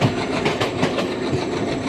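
Diesel locomotives hauling the Tungabhadra Express between Secunderabad and Kurnool, a steady dense rumble with rhythmic clattering of rail cars, heard close and continuous.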